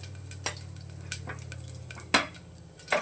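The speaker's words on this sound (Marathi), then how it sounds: "कुकर गरम झाला आहे, थोडंसं तेल टाकते, थोडंसं टाकायचं शिजायला जरा, आणि थोडंसं जिरं" Cumin seeds and turmeric sizzling in hot oil inside a pressure cooker, a steady low frying hiss broken by a few sharp metallic scrapes and clinks of a spoon against the pot.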